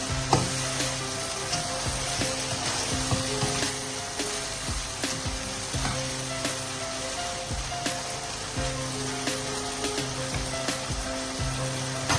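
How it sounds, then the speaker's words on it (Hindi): Capsicum cooks in a hot pan for white sauce pasta, giving a steady, close sizzle with occasional scraping stirs throughout. "अब हम इसके अंदर शिमला मिर्ची ऐड कर देंगे। शिमला मिर्ची को भी हमने 1 मिनट के लिए कुक करना है।"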